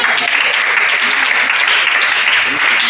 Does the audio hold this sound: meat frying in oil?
no